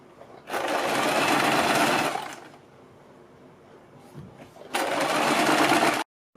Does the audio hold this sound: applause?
no